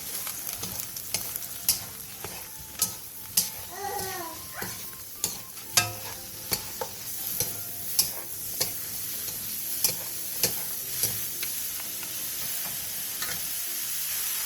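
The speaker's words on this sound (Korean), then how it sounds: "팬에 기름을 두른 뒤 버섯과 소금 3분의 2티스푼, 다진 마늘 1스푼을 넣고 센 불에서 볶아주세요." Mushrooms stir-fried with salt and minced garlic in oil over high heat, a continuous sizzle punctuated by regular sharp clacks of a spatula against the pan, close, with no talking.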